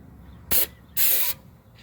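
Degreaser foam sprayed from an aerosol can onto a car engine: two loud, close hissing bursts, the first short and the second longer, with quiet pauses between.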